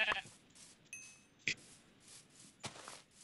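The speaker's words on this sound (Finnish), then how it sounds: "Kaksi lammasta, jes, tää on tosi hyvä alku jo" Sheep in the video game Craftsman bleat in short, separate calls, three or four spaced bursts over a soft hissing game background.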